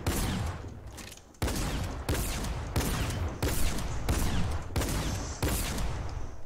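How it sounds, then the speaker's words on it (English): A new tactical shotgun fires in Fortnite, six or seven loud sharp blasts in a roughly even rhythm, each cutting in abruptly with a short decaying tail, with no talk over it. "This is the new shotgun."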